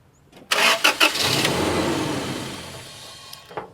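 A 1996 Toyota Tacoma with a crank-no-start fault and cheap parts installed: the starter kicks in abruptly with a few uneven chugs, then a sustained loud cranking whir that slowly fades over a few seconds, with no talk.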